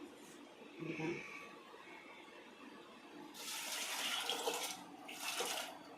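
Water pours and splashes into a cooking pot in two bursts, a shorter one then a longer rushing stream, fairly close with no talking.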